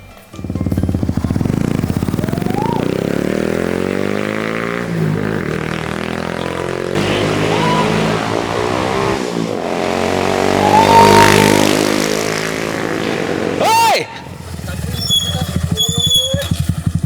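A motorcycle ridden fast in Indonesia roars close by with rising and falling engine revs and brief gear changes, a loud sustained drone that cuts off near the end before a few sharp rattling sounds.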